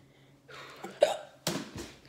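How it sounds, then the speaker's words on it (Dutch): Several sharp hiccups from a person, close and fairly loud, coming in quick bursts about half a second apart with short breathy gaps between, in a quiet room with no talking. "Ik krijg er zelfs de hik van."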